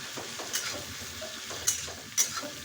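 Five-spice seeds sizzle faintly in oil for a fish curry, soft steady frying with a few light stirring scrapes and clinks.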